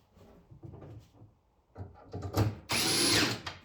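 A power drill drives 1/4-inch screws into an arcade cabinet hinge, a short high whine rising after a few soft handling knocks and clatters, close and fairly quiet.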